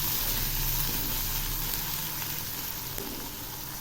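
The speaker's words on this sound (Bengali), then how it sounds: "এখন এই পেঁয়াজগুলো খুব ভালো করে ভেজে নেব।" Onions frying in oil give a continuous, moderately loud sizzle and crackle that eases slightly toward the end, with no voices.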